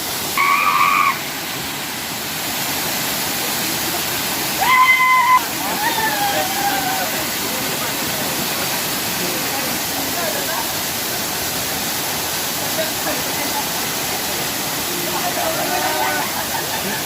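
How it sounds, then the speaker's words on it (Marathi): Water from the Shivdav waterfall near Kankavli rushes in a constant loud broadband roar, close by, with brief voices and whistle-like calls rising over the flow at a few moments. "त्या धबधब्याचं हे पाणी बघा."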